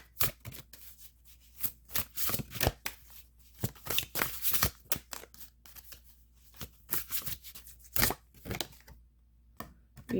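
Vintage Wisdom oracle cards being shuffled and handled, a steady run of crisp riffling flicks and papery slaps, close and fairly quiet, with no talking.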